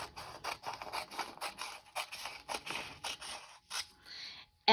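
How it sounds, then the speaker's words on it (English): Scissors snip along the edge of folded paper, a quick run of crisp, close cuts in an irregular rhythm, followed by a brief pause and a final sharp snip. "So you fold it over and then you simply trim that edge off."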